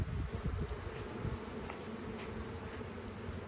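Agitated honeybees swarm at an open hive, their dense, steady buzz filling the air up close, with a faint high whine running underneath and no voices.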